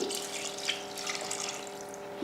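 Water runs steadily into a pressure cooker holding mutton in a home kitchen, a continuous close splashing and trickling with no talk.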